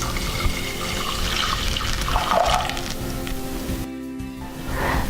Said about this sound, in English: Add 1 cup and 3/4 of water.